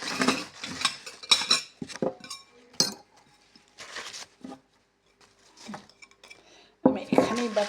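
A bowl and a knife are set down on a hard surface while Maggi soup is prepared, giving several sharp clinks and clatters of dishes and cutlery spread through the moment, close by, with brief quiet gaps and some talk.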